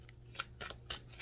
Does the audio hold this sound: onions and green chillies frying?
no